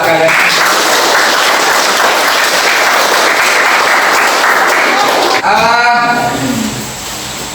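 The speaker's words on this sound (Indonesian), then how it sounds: "tepuk tangan dulu buat kalian." Students applauding together in a classroom at the end of a lesson, a dense steady clapping that fills most of the clip before breaking off near the end, followed by a brief voice.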